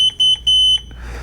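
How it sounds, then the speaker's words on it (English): A Transformer 2 automatic folding mobility scooter (2023 model) horn buzzer beeps in quick short pulses, then holds a longer steady tone, loud and close, with no talking. "You also have a horn buzzer button."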